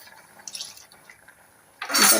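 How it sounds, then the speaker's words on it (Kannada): Water poured into a ground coconut and curd paste for majjige huli. After near silence, a short splashing pour arrives close and fairly loud right at the end. "ಸ್ವಲ್ಪ ಇದಕ್ಕೆ ನೀರು ಹಾಕಿ ಮಾಡ್ಕೊಳ್ಳಿ"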